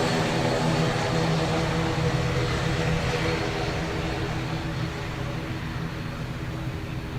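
An aircraft roars at Dublin Airport during reverse operations on runway 10R. The broad, loud engine noise holds steady and then eases slightly toward the end, with no voices over it.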